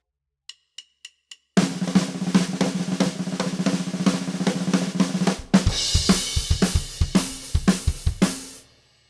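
After four quick stick clicks counting in, a snare drum drives a rapid lick at 215 bpm, dense busy strokes with kick and cymbals, shifting into heavier accented fills before stopping.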